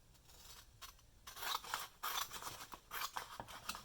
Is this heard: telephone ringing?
no